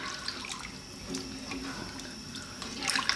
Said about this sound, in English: Always give your chickpeas a nice wash.